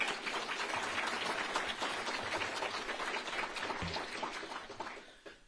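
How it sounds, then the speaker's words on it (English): Audience at an annual governor's awards ceremony clapping for the participants, a dense, sustained round of applause that holds steady before tapering off near the end. "a round of applause for all of the participants today"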